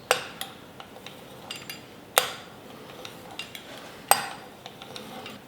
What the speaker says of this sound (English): I'm going to use a pizza roller. We're going to cut these up into small strips.